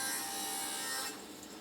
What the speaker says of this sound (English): cut the leg down to its final size on the table saw